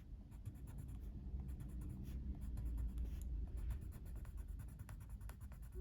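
Soft, crumbly coloured pencils scratch steadily across paper at close range, a continuous quiet scraping with small rhythmic stroke pulses and no talking.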